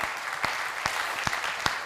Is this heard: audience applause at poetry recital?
yes